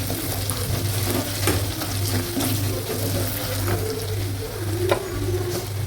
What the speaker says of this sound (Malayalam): എല്ലാം കൂടെ ഇളക്കി കൊടുക്കുകയാണ്